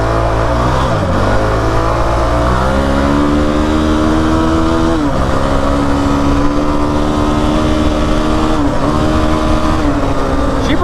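A stock Kawasaki KFX 450R ATV engine running while ridden, loud and close with a steady buzzing drone and repeated revs rising and dipping as it accelerates and shifts, no talk.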